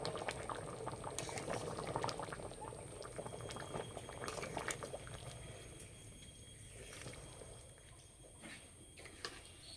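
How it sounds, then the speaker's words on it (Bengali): Chickpea and potato curry bubbling steadily in a pan, a continuous near simmer with soft popping and spattering and a few sharper clicks, holding even throughout with no voices. "তরকারি ভালো করে ফুটিয়ে নিয়েছি, এবার ভাজা মশলা বাটাটা দেব।"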